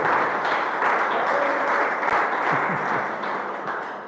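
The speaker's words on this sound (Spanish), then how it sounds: "dale el aplauso al Señor" Church congregation applauding during a sermon: a dense, steady wash of clapping from many hands, fairly loud and continuous throughout, with faint voices mixed in.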